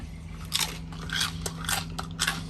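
Homemade crusty bread being bitten and chewed aboard a sailboat, giving several loud crisp crunches in a steady rhythm, close up over a low steady hum.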